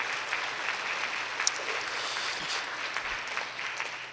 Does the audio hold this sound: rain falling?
no